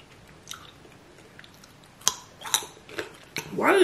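Moist, close-up chewing and biting while eating orange pepper ranch chicken wings, a few sparse crunchy bites with quiet pauses between them.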